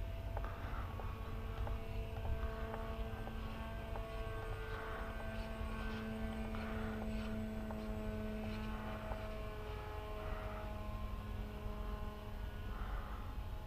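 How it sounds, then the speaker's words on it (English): A radio-controlled model airplane with autopilot, flying on auto tune, drones faintly in the distance with a steady propeller hum that rises and falls slightly as it passes overhead, and no voices. "Wow, what a nice flying model."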